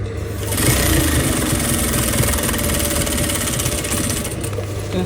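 Sewing machine running steadily while stitching gathered Ankara print fabric, a continuous loud mechanical whir with rapid needle rhythm that starts just after the opening and holds for several seconds.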